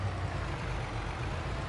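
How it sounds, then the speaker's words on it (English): A heavy truck engine in Farming Simulator 22 rumbles steadily at low pitch while the vehicle turns around, a continuous close idle-like drone with no talking. "because we're just gonna turn this truck around."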